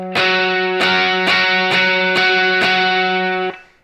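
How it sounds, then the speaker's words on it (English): A distorted electric guitar hammers out octaves aggressively, with about seven hard, evenly spaced strikes on a sustained chord, loud and close, with no talking. "And so then your octave would sound like this."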